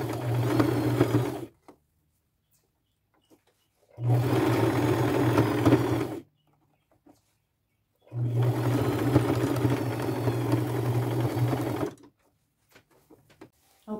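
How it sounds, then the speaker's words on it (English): A sewing machine zigzag-stitches lace doilies onto a skirt, running in three steady bursts of a few seconds each with short quiet pauses between, close and fairly loud, no talking. "So I will just go all the way around with a zigzag stitch."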